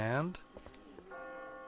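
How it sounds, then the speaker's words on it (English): Church bells ring within The Walking Dead video game, a faint metallic clang partly masked by mixed game sound, with a sustained tonal hum rising near the end. "I just got spooked by those bells"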